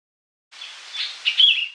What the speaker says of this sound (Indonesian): Burung kutilang atau sooty-head bulbul, juga sering disebut ketilang atau tilang.